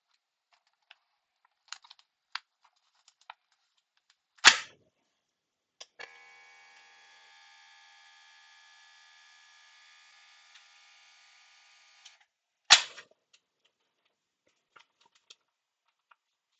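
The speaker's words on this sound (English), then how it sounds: "seal that up in the vacuum sealer" A vacuum sealer seals portions of frittata, its motor humming steadily for about six seconds with a bright whirring tone, set between two sharp clicks of the lid and scattered light handling taps in a quiet kitchen.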